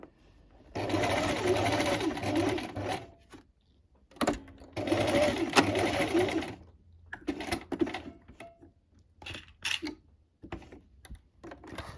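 A sewing machine sews reinforcing holding seams at the corners of a top, running in two close bursts, then short stop-start stitches as the work is turned and reinforced.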